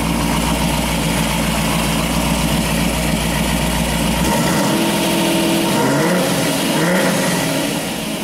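A 393 stroker engine idles after a cold start, a loud, close, steady rumble that drops from a heavy low drone to a smoother, lighter idle partway through, with no talk.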